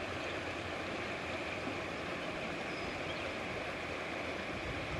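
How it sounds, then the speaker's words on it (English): A river stream with running water flowing steadily, a soft continuous rushing wash, fairly faint and even throughout, with no voices. "Just listen to the running waters."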